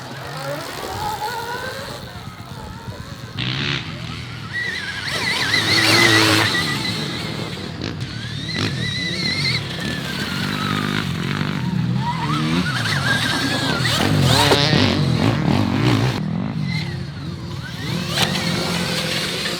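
A Stark VARG electric dirt bike is ridden around a motocross track, its whining motor rising and falling in pitch through repeated accelerations over about twenty seconds, with no engine roar.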